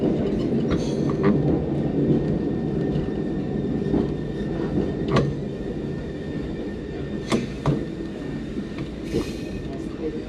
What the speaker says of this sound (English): You can see a little tram behind us.